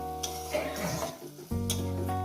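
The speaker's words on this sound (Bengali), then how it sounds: "এবার এটাকে ভালো করে চার মিনিট ধরে চার পাঁচ মিনিট ধরে কষিয়ে নেবে" Masala is sautéed and stirred in a pan for a thin rohu fish curry with potato and cauliflower, giving a close sizzle with scraping stirs and soft background music.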